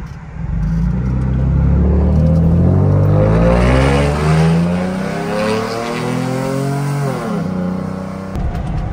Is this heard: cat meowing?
no